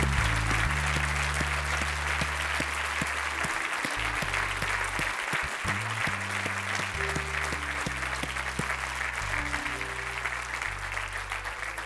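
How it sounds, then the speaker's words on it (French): An audience at an evening church gathering applauds steadily, with dense, sustained clapping filling the room at an even loudness throughout. "Est-ce qu'on peut les applaudir ce soir?"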